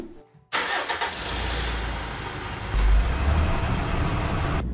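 Truck engine cranking and catching after a brief quiet moment, then rumbling loudly at a steady idle with a deeper surge partway through.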